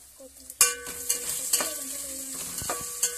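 Cumin seeds frying in a pan for jeera rice, with ginger paste and onions close by, give a steady close sizzle. Sharp stirring clatters at intervals break over it, and nobody speaks.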